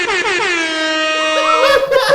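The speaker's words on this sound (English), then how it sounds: "Air horn the shit out of that one." An air horn sound effect blares loud and close, a single sustained honk with a bright, brassy tone that wavers slightly before cutting off.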